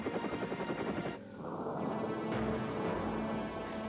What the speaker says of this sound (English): the chopper returns one more time for the last crewman